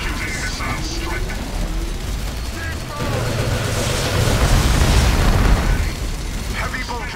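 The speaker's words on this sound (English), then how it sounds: "Executing missile strike." A missile strike in the Warhammer 40k Dawn of War battle game brings a run of deep, rumbling explosions that build to a loud peak midway, with scattered battle noise and unit voice lines around them.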